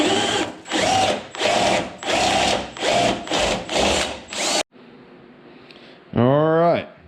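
A power drill with a tapered bit bores holes for mounting a car radiator, with seven loud, close, evenly spaced bursts of whining drilling, then a quiet pause and a short final spin-up.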